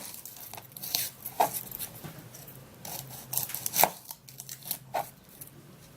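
A knife cuts the head off an onion and chops through it on a board, giving a few soft, irregular chopping taps close by at low volume, with no talking.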